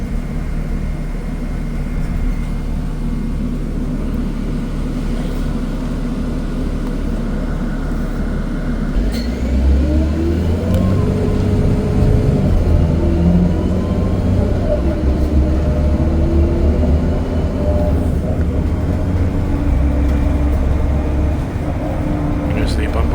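An STL city bus on route 151 heads north toward Sainte-Rose in Laval, its engine a constant low drone inside the cabin, swelling and climbing in pitch as it pulls away partway through.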